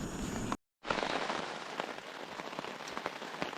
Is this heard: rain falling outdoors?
yes